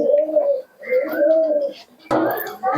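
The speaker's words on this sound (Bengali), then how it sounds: "খুবই সুন্দর কোয়ালিটির কবুতর আছে" Pigeons of the Akash Pukuri Andra breed coo close by in a series of soft, rolling calls, with a sharper flutter or burst of bird sound near the end and no talk.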